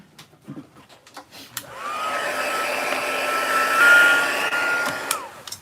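Hair dryer blowing over fresh marker coloring: after a few soft handling taps, a steady loud whirring blast starts and holds, swelling slightly midway before cutting off near the end.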